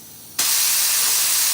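An automotive paint spray gun, used to apply 2K epoxy primer on a 1984 Cutlass hood, bursts on abruptly and releases a loud, steady hiss of air that holds evenly before stopping.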